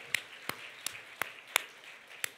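Sparse clapping from a church congregation during a festive worship service: about seven distinct, evenly spaced claps over a quiet background, faint and somewhat distant.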